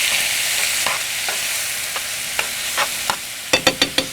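Steady crackling sizzle of celery in a hot frying pan, with spoon scrapes and taps that grow louder and quicker toward the end.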